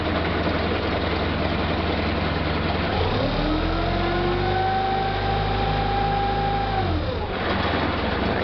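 A vehicle engine runs steadily at idle, then rises in a sustained rev as the clutch engages and gear is selected before dropping back, a loud, continuous mechanical drone.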